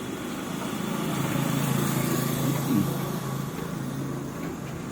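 A motorcycle engine hums steadily at moderate distance, swelling slightly louder around the middle as it passes, then easing off again against background noise.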